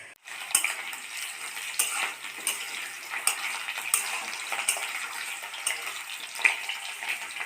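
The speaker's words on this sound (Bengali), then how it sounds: "আলুগুলো আগে লাল লাল করে ভেজে নেব।" Potatoes fry in hot oil in a wok, giving a steady sizzling hiss broken by several sharp scraping stirs, close and fairly loud with no talking.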